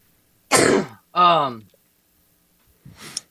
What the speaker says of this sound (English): So sorry, I got to cough real quick.